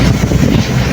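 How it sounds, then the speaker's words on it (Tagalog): Strong wind buffets the microphone while travelling along a road in Bicol, a loud, close, low rumbling roar with gusty fluctuations over about a second. "mahangin."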